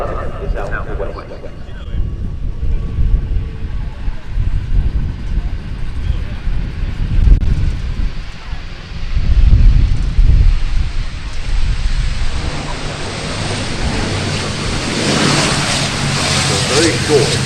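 An ATR turboprop airliner landing at the Farnborough Airshow, a broad, steady roar with engine and wind noise swelling toward the end, heard at a distance outdoors.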